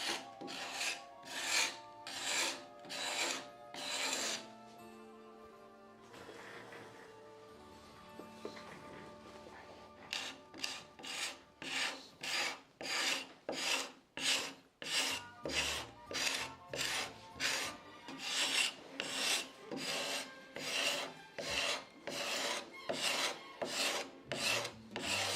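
A wooden door edge is sanded by hand in steady, rasping back-and-forth strokes. The strokes are close and fairly loud and fall in a regular rhythm, with a brief pause partway through before the strokes resume.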